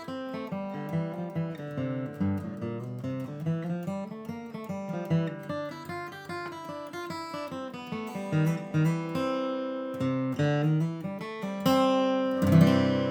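A flatpicked acoustic guitar plays a quick bluegrass phrase alone, bright single notes in a steady run ending with a strummed C-run flourish.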